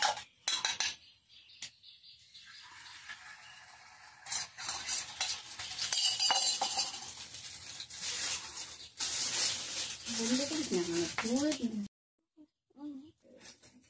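An egg cracked into hot oil in a home kitchen sizzles and fries steadily, with a utensil scraping and stirring in the pan and someone talking over it.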